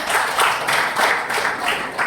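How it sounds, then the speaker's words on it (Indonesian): Classroom of students clapping for one another during a lesson, a brief burst of scattered applause with uneven pulses, fairly close and moderately loud. "Tepuk tangan untuk kalian semua ya"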